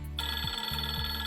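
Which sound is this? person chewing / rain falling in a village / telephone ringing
telephone ringing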